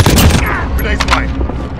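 Gunfire bursts loud and close in Call of Duty Modern Warfare, a rapid clatter of shots packed into the first moments, then scattered sharp reports and echoing cracks trailing off.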